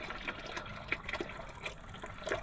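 Oil draining from a 4x4 1.5-ton Chevy dually truck's transmission into a drain pan, a faint, uneven trickle and splatter of liquid falling into the pan, with no voices over it.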